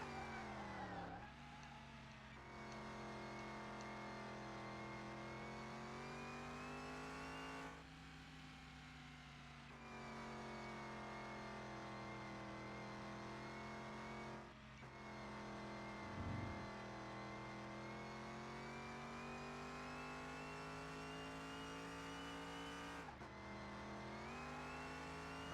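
A classic car and a modern car race at full power, with a steady, droning engine note that climbs and shifts through several gear changes, continuous and fairly close with no talk.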